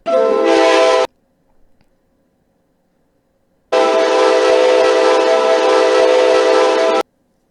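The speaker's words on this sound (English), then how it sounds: "This is the horn that the Locomotive comes with." Default locomotive horn in the train simulator game Trainz: two loud, steady blasts, one about a second long and a longer one of roughly three seconds after a pause, each cutting off abruptly.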